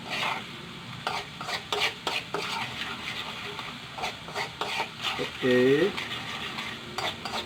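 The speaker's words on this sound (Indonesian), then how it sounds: "Kita tumis sampai harum." Spice paste with shrimp paste is stir-fried in a pan with steady sizzling and repeated scraping of a utensil against metal, while a voice briefly speaks.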